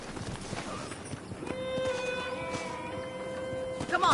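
Horse hooves clip-clop in the video game Red Dead Redemption, a steady rhythmic trot at moderate distance beneath a faint, sustained musical tone.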